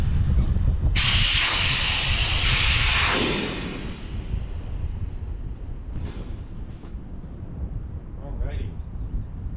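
Air rushes loudly out of the valve of a Scout Inflatables boat as it deflates, a strong hiss for a couple of seconds that then drops to a softer, steady outflow with light handling noises.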